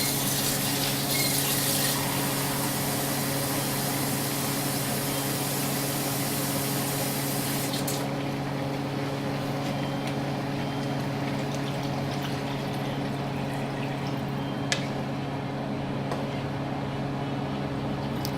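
A steady, full rush of water pours continuously into a cooking pot of braised pork for a long stretch, loud and close, with a faint hum underneath and no talking.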